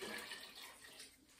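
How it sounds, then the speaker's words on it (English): Hot water poured from a pot back into a canning pot during pickled-beet canning, a soft continuous splashing stream that fades toward the end, faint and alone. "I'm gonna put this hot water back in here"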